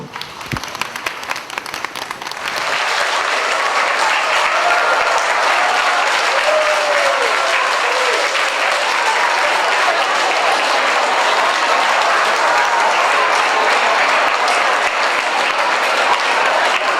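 Warm applause from a large audience welcomes a K3 kindergarten graduating class at a 2011 graduation ceremony; after a quiet start, the clapping swells to a loud, dense, sustained roar.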